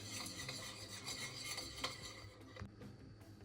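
A spoon stirs a thick poke sauce of sriracha and Kewpie mayonnaise in a bowl, giving soft continuous rubbing and scraping strokes with a few light clinks. The sound is quiet and close.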